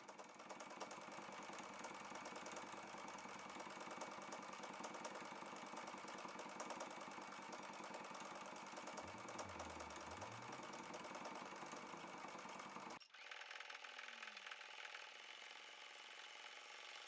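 A domestic sewing machine free-motion stitching large meandering loops on fabric, a steady continuous mechanical whir and hum that holds unbroken for most of the stretch, then shifts tone abruptly and continues near and fairly loud.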